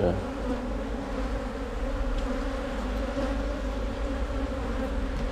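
Bees in an active hive in a city-centre apiary during honey harvest, a dense, steady, close buzzing that fills the whole stretch without pause.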